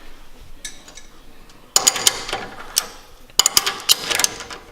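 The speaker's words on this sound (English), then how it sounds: "Now he's gonna go ahead and put the castle nut." Two loud bursts of rapid ratchet clicking as a castle nut is turned on a Toyota Tacoma long-travel suspension, close up, with quieter faint clicks before them.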